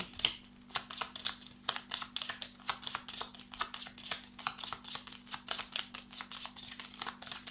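Tarot cards are shuffled by hand in quick repeated riffles, a crisp rhythmic flutter of slapping card edges, close and steady for several seconds over a low constant hum.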